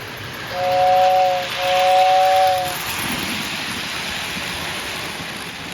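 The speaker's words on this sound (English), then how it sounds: "It runs great, and it even still has the whistling tender." A model train's tender steam whistle blows twice in steady tones, close and clear, over a constant hissing background.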